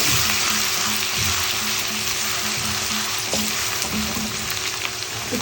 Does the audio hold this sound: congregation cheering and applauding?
no